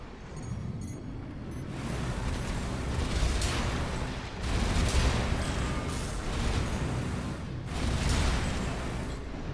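Mech weapons fire in Armored Core VI, loud sustained bursts of gunfire and blasts rolling in several heavy waves over rumbling background.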